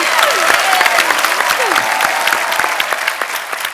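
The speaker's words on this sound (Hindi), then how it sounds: "हमारी भाभी के लिए जोरदार तालियां" A studio audience at a comedy talk show breaks into loud, sustained applause, dense and close with sharp individual claps standing out and a few cheering voices.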